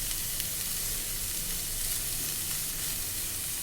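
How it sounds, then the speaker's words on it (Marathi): Steady, close sizzling of shredded cabbage sabzi sautéing in a pan, a dense continuous hiss with no talk. "छान परतून घ्यायचे आणि आता शिजू देऊ आपण झाकण ठेवून"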